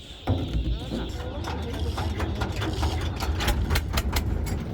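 A river boat's engine clatters loudly and steadily as the boat pulls away, a rough rhythmic mechanical chugging that fills the scene with voices talking over it.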